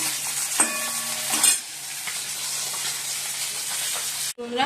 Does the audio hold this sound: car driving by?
no